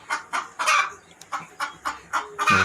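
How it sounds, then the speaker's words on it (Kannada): Chickens at a poultry farm cluck close by in a steady series of short, sharp calls, about ten in quick rhythmic succession. "ಈ ಕಡೆ ನಮ್ಮದು ಒಂದು ಕೋಳಿ ಫಾರ್ಮ್ ಐತಲ್ಲ, ಆ ಕೋಳಿ ಫಾರ್ಮ್ ಇದೆ"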